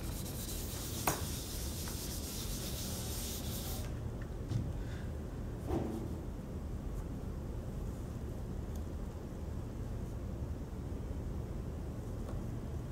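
An eraser rubs writing off a board in a continuous broad scrubbing hiss that carries on steadily for several seconds, with a few faint knocks and no speech.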